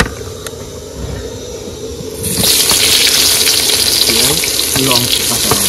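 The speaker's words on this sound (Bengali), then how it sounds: "এবার আলু সিদ্ধের জন্য পেঁয়াজ ভেজে নেব" Quiet background at first, then a sudden loud burst of hissing sizzle as onions hit hot oil, continuing steadily with faint clatter.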